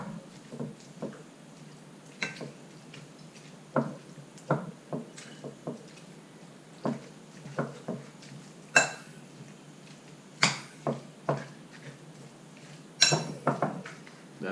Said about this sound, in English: just break up the eggs